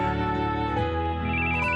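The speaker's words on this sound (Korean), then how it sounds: "자 전화 왔죠?" A phone rings inside a Japanese horror RPG Maker game, its melodic electronic ringtone sustained and steady at close range with no voice over it.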